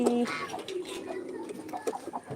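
Pigeons kept among poultry give brief, soft coos close by, with a few scattered faint calls and rustles in a quiet setting.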